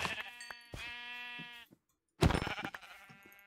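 Sheep in a modded Minecraft 1.18 world bleat in two separate calls, a long wavering baa followed after a short pause by a louder, harsher bleat.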